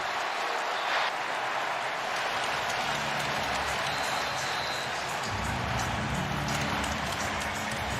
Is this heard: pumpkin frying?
no